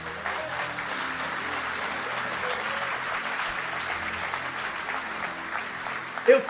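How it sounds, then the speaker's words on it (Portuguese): A church congregation applauds in a continuous soft clapping wash during a Portuguese-language service, moderately loud and even, with a faint low hum of voices underneath and a brief sharper sound near the end. "Esse aplauso é para ele?"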